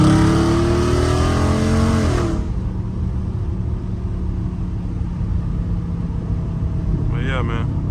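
A Dodge Charger Scat Pack is pushed hard, its engine revving loud and rising through the gears before easing to a steady rumbling cruise, with a brief rising rev near the end; someone talks over the engine at the start.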